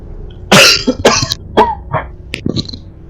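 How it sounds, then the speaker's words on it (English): Several sharp coughs and throat-clearing bursts right into a close microphone during a game session, irregular and loud, with short pauses between them and no talking. "I didn't mean to cough in the microphone"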